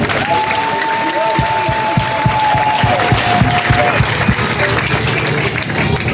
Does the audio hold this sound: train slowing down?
no